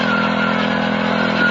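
A 52 cc petrol-engine power weeder runs at a steady, loud buzzing drone close by in a summer black gram field, with no talk.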